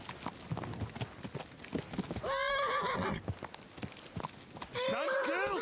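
Horse in the video game Kingdom Come: Deliverance II, hooves clip-clopping steadily with two loud, close whinnies, while someone talks over the first part.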